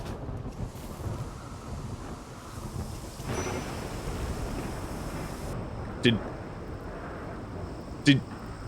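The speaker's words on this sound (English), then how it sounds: "he just got hit by lightning" Lightning strikes in the video game RimWorld land as thunder over steady rain and a windy rumble, with two sharp cracks late on, while a voice talks over the storm.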